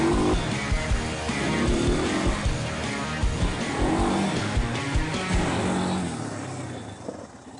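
A quad bike rides through tight turns, its engine droning loud and close with rising and falling revs over a steady rumble, without talk.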